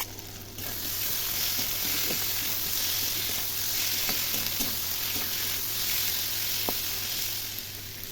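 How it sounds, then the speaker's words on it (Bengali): Fried prawns sizzle steadily in a hot pan with soy sauce and vinegar, a loud continuous frying hiss with a few light stirring clicks, close and alone for about eight seconds. "এবার আমি দিয়ে দেব ভেজে রাখা প্রনগুলো।"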